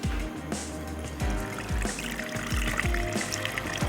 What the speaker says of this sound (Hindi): साथ ही हम इसमें ऐड कर देंगे पानी।